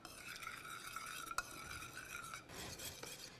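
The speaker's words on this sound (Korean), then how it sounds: "설탕이 잘 녹아주게끔 저어주세요" A utensil stirs sugar into vinegar in a bowl, making faint, close scraping and swirling sounds with an occasional light clink and no talk.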